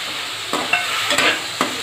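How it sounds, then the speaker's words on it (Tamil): Close-up stirring and scraping of onions and potato in a pan over a steady sizzle, with a few sharper clinks of a spoon against the metal. "வெங்காயம் நல்லா பொன்னிறம் மாற வரைக்கும் நல்லா வதக்கிடுங்க"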